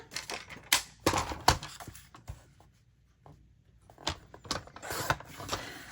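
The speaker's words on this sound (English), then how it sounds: "Okay, and then trim the edge, just leaving a tad of the white." Paper being trimmed for a 6x6 Christmas mini album, a series of close crisp cutting and sliding strokes in uneven bursts with a short quiet gap in the middle.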